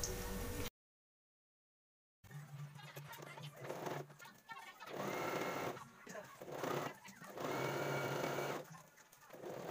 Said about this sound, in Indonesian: Jahit bagian yang sudah ditandai dengan pentul.